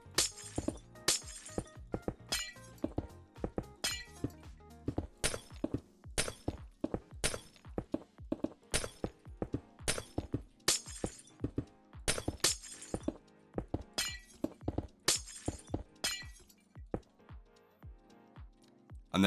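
Glass blocks, black stained, are set down one after another while building in Minecraft, giving a long run of sharp, evenly repeated clicking thuds with bright glassy tops, fairly close and steady, with no voice over them.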